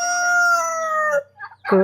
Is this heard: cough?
no